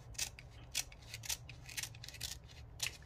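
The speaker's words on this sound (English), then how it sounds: "I'm only going to slit the front very carefully." Scissors snip through the front of a folded paper bag in a careful series of short cuts, about seven crisp slicing strokes spaced unevenly over a low steady hum, close and fairly quiet.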